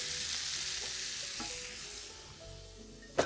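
Food being stirred in a pot while it heats toward a boil, a soft steady sizzle with faint scraping and a sharp knock of the utensil at the very end; quiet and close, no voices.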